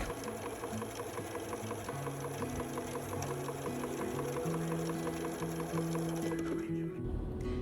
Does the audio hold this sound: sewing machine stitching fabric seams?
yes